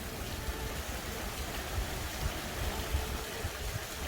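A big pump feeds a waterfall into a biofilter on a Bohol beach house build in the Philippines, producing a steady broadband rush of falling, splashing water, continuous and moderately loud with no voices.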